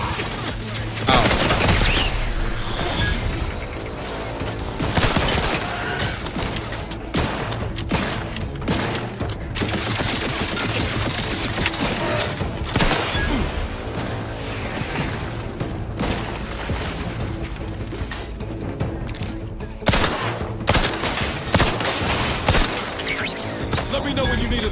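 Heavy firefight in The Outer Worlds 2, a dense stream of gunshots and automatic fire with impacts and crashes, loud and near, with occasional voices mixed in.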